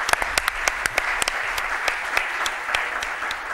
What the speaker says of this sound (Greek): χειροκρότημα για τη Γιάννα Λοιζίδου.